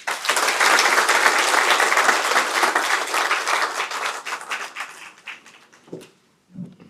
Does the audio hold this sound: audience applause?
yes